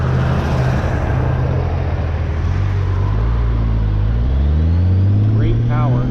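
A 2009 Honda Goldwing motorcycle engine runs steadily while riding, a smooth, quiet low hum with transmission whine more noticeable than exhaust, continuous and close throughout.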